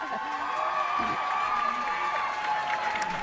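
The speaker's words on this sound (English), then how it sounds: "Oh, the crowd are excited." A crowd at a jigsaw puzzle championship semifinal applauds and cheers, a steady wash of clapping in a large hall, heard at a distance beneath voices talking close by.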